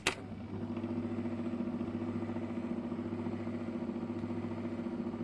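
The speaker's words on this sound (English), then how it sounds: "listen to the lovely, very quiet motor idle it has" Quiet, steady idle of a SABA motor, a low even hum with a faint rhythmic pulse running alone after a brief click at the start.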